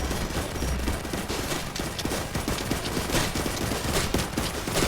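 Minigun Sentries in the tower defense game TDS firing without pause, a dense, continuous rattle of rapid gunfire that stays loud and steady throughout, with no talking over it.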